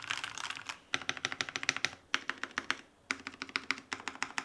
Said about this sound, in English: this sounds like a very nice keyboard